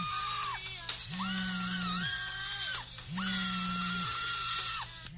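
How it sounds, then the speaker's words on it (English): A shrill, warbling synthetic melody loops in repeated phrases, with wailing scream-like tones over a droning bass, loud and close. "And then it just loops over and over again."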